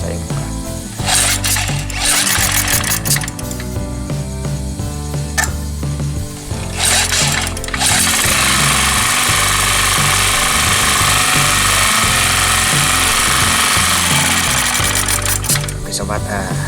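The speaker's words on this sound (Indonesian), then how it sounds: "ternyata karburatornya masih bisa menyala dengan normal" A small engine starts up and runs after its carburetor is repaired, giving a close, loud, steady rattling drone with a rapid mechanical chatter that swells in intensity partway through.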